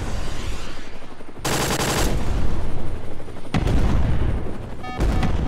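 Tank guns fire in the VR war game War Dust, loud rapid bursts of gunfire and heavy booming shots in separate volleys over constant battlefield din.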